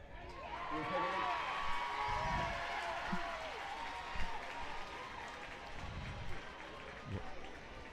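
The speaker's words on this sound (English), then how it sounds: "the Newberry crowd kind of cheered" Home crowd at a Newberry college football game (SAC) cheering in a sustained roar through the whole stretch, with a burst of louder shouts midway and bursts of close announcer talk over it.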